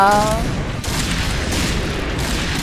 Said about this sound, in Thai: แล้วเป็นปืนกลนี่ยิงสาดเนี่ย